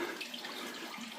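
Water from a spring drilled into rock around 1767 in historic Heidelberg pours in a steady, close splashing rush, like a running tap, with no voices over it.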